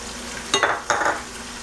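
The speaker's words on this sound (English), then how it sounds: "we've got our meat cooking" Ground beef and chopped celery frying in a pan, a steady low sizzle with two quick scraping stirs close by.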